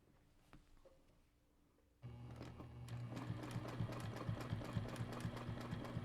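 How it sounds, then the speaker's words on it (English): A sewing machine stitches through a quilt top, starting up after a quiet moment and then running steadily with a fast, even needle rhythm, close and fairly loud. "And I am going to stitch up to this point."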